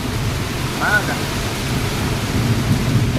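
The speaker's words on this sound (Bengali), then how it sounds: "বৃষ্টি হচ্ছে এখানে দ্রুত চমকাচ্ছে মারাত্মক" Heavy rain pours continuously with a low rumble of thunder underneath, a dense steady wash of noise, and a brief voice-like sound briefly surfaces.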